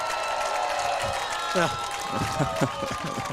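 Crowd noise at a high school football game, Algona vs. Webster City, a steady murmur of spectators with scattered shouts and brief cheering bursts, while a commentator talks over it.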